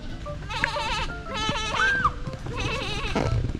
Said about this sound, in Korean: 저기 저 진짜, 진짜 아기 염소 있지